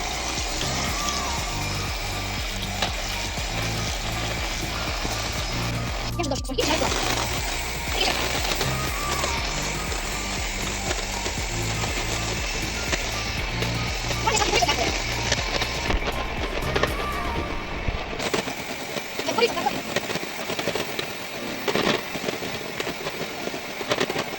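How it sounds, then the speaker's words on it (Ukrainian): An electric hand mixer whips egg whites for meringue, a loud, close, continuous whirring drone with rattly beater texture that runs for about eighteen seconds and then stops, leaving quieter clatter. "починаємо міксером збивати. Спочатку на малій скорості, а потім піднімаємо на велику"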